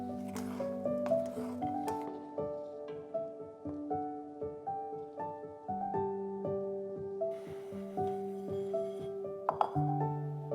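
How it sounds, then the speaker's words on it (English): A utensil clinks and scrapes against a glass or metal dish while rice is fluffed and mixed with almonds, chickpeas and raisins, giving close, irregular chinks and ringing taps under faint background music. "Fluff and mix the rice together."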